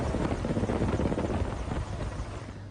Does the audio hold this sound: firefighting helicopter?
yes